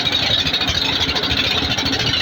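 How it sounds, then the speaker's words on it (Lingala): A motorboat engine of the kind locally called dakadaka runs steadily and loudly close by, a continuous mid-pitched drone with a rapid chugging pulse and no voices. "kombo ya dakadaka euta son ya moteur nango soki eza kotambola esalaka kaka dakadaka"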